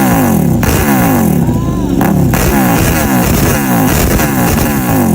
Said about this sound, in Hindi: तो चलो सबसे पहले KTM सुपर ड्यूक R का साउंड पावर देख लेते हैं।